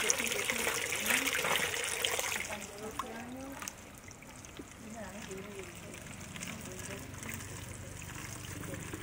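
Water runs and trickles steadily from a drinking water source in Zermatt, Switzerland, loud and close at first and then quieter, with a person talking over it.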